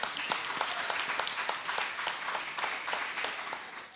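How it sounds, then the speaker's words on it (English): Audience applause at a conference on girl child education, moderate clapping from a seated crowd with distinct individual claps standing out in a fairly regular patter, fairly soft and without talk. "Rivers State deserves a round of applause"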